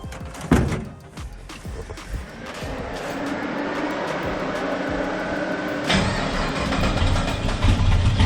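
A turbocharged LS-swapped car engine cranks briefly, then settles into a steady, fairly loud idle that rises slightly toward the end, with no voices over it.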